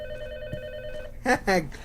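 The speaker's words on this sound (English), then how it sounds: "You better go answer the phone before it's..." A telephone rings inside the video game République, its electronic bell tones heard in two short bursts near the end over a steady background hum.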